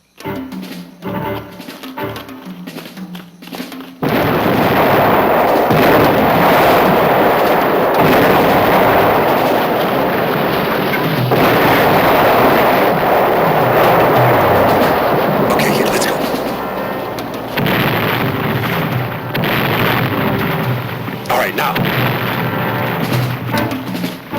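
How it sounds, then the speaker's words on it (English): Howitzer artillery fire and explosions in a Vietnam War action drama, a loud, sustained barrage of booms and blasts that kicks in after a few quieter seconds and rumbles on continuously to the end. "Let's get moving before old Lard-ass opens up with his howitzers."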